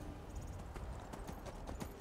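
Faint steady hoofbeats of a horse clip-clop in the Skyrim video game, soft repeated thuds at a walking pace under a quiet ambient bed, with no talking.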